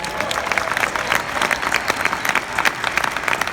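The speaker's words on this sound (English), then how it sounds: "please give Whitney a big round of applause" An audience gives a warm burst of applause for a guest, many hands clapping together in a continuous, lively patter throughout.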